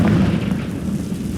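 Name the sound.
Confringo blast spell exploding in Hogwarts Legacy video game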